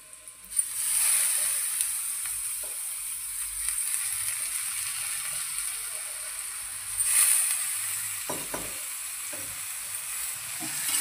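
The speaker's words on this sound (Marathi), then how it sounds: "थोडासा परतून घेऊया" Soaked lentils and onion sizzle steadily as they are sautéed in a pan, a continuous close frying hiss with a few faint stirring knocks and no talking.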